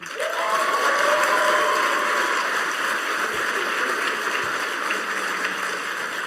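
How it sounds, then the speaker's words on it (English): Steady, dense applause from a sizable audience at a PAX East 2016 panel, clapping continuously at even loudness throughout, with no speech. "So, round of applause."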